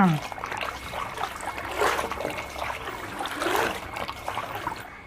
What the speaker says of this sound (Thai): และนี่ก็จะเป็นการล้างน้ำเปล่าครั้งที่สองของเรานะจ๊ะ